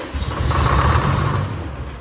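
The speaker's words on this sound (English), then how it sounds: "You hear the belt squealing a little bit?" Farm machine engine running with a squealing drive belt, a close, steady, rumbling idle lasting a couple of seconds with a faint higher whine riding on top.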